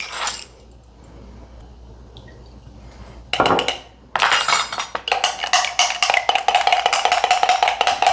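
Spoon stirring blue cheese dressing in a glass bowl, a run of quick close clinks and scraping taps that begins after a quiet start and grows into dense, steady rattling.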